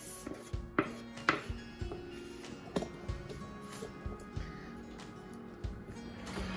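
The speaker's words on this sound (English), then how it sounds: "I'm going to use my spatula just to get the extra mixture out" A spatula scrapes leftover chocolate roulade mixture out of a bowl, giving soft repeated taps and knocks against the bowl at an irregular pace, close and fairly quiet over a faint room hum.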